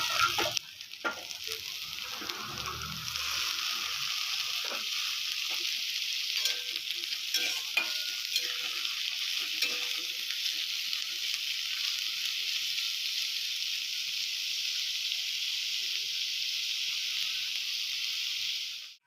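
Taro stolons stir-fried with half-fried onions in a pan, giving a steady, dense sizzle that holds level and close throughout, with faint stirring scrapes early on and no voices.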